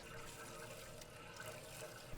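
Water poured down a blocked drain in a derelict 200-year-old barn, a steady close splashing and gurgling wash of liquid running continuously without a break.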